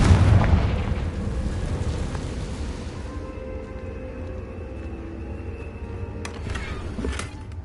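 A Confringo blasting spell explodes in Hogwarts Legacy: a loud, close booming blast at the start whose rumble slowly fades, followed by a few faint crackles.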